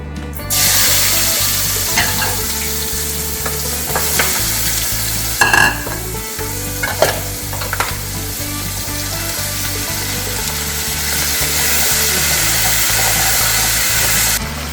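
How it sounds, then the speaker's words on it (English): Rough-cut celery, carrots and onion sautéing in a pot for braised short ribs, a loud, steady sizzle over a low mechanical hum, with spoon scrapes and clatter midway and no voices. "we're going to saute up our rough cut celery, carrots, and onion"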